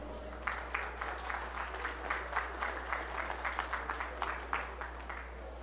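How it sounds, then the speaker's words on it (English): Audience at a 4-H provincial beef show applauding the show committee, a fairly quiet, rhythmic patter of a modest crowd clapping in a large hall over a steady low hum, with distinct individual claps. "I think all of them deserve a big round of applause for putting on such a great show."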